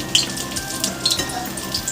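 Ash gourd fritters with a mustard filling frying in hot oil: a brief, close bubbling sizzle with light popping crackles throughout.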